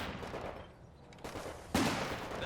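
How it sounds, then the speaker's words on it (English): Sniper and machine gun fire in Company of Heroes 2, quiet scattered shots and rattling bursts, then one sharper, louder report followed by continuing battle noise. "Sniper has been picking some nice shots at the MG"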